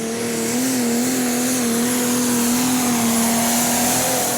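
Sigma Power pulling tractor roars through its run with Pekka Hurleby driving at the 2015 European Tractor Pulling Championship in Brande, Denmark, a loud, sustained engine howl with a steady drone holding throughout.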